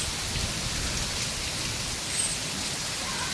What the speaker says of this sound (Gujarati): એટલો પવન ને વરસાદ છે